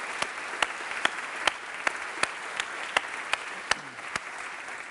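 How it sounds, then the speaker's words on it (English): A congregation at Unity Temple applauds the mothers, heard as sparse, slow, regularly spaced claps that sound like only a few hands, fairly quiet against a hushed room. "Let's have a round of applause for the mothers."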